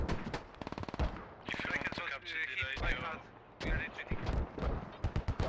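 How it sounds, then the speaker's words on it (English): Gunfire in the video game Squad, during a competitive match: rapid machine-gun bursts and sharp single shots trade back and forth with heavy booming impacts, while a commentator's voice talks over the action. "Rockets coming out, shots being traded around."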